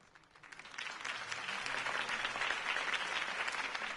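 Crowd applause erupts after a mayoral campaign speech for Harvey Dent in a Batman video game, rising quickly and holding as dense, steady clapping from a large audience.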